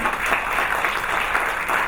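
Audience applause at the opening of a beauty salon, welcoming the guests of honor: a steady, dense patter of many hands clapping close by, filling the short moment without a break.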